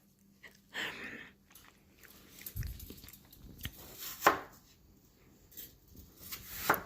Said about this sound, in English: And slice up those apples.